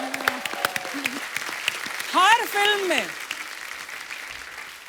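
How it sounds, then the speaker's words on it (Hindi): On the Kapil Sharma Show, a comedy TV program, a studio audience claps in a thin, scattered way beneath a man's speech, while rising and falling whooping tones cut through the middle. "पहले तो जोरदार तालियां."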